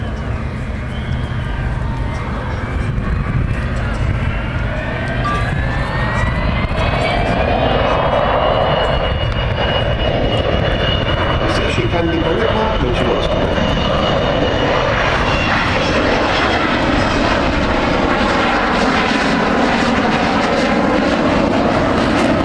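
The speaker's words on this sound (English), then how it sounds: "So here she is, gear down." An Avro Vulcan bomber flies past at the Farnborough Air Show with its landing gear down, producing a loud, sustained roar of jet engines that swells and shifts in pitch as the aircraft passes, dominating the scene throughout.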